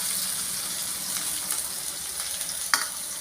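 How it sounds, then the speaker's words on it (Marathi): Onions and green chillies hitting hot oil with curry leaves already in the pan, giving a steady close sizzle and crackle throughout, with a brief louder splutter near the end. "हे बघा, कांदे टाकते आणि हिरवी मिरची टाकते."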